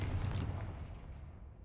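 The Confringo blasting spell goes off in Hogwarts Legacy as a deep, rumbling explosion that starts loud and then fades away over a second and a half, with no voices over it.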